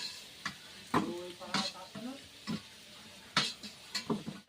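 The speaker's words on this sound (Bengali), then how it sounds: "আলুটা কিন্তু লাল লাল করে ভেজে নিয়েছি এবার কিন্তু আলুটা তুলে নিচ্ছি" Red-fried potatoes being lifted out of hot frying oil with a utensil, giving a soft continuous sizzle broken by several sharp scraping clinks against the pan, close by.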